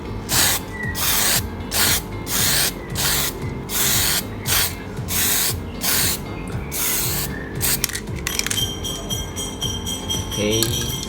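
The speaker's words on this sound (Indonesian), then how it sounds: "Bagi yang masih kelihatan putih, corak-corak putih, bisa kita semprot lagi." Spray paint hisses in a string of short, close bursts of regular rhythm over a license plate sticker, then gives way to scraping and clicking handling noises near the end.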